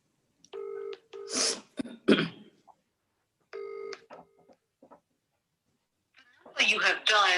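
Telephone keypad tones beep in two quick bursts of dialing a number, each a short series of steady electronic tones, with coughs and brief voice sounds between and a person speaking at the end.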